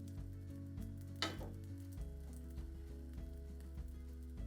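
Bread pieces frying and browning in a pan, with a steady close sizzle, a brief louder burst of crackling, and soft rhythmic stirring scrapes throughout.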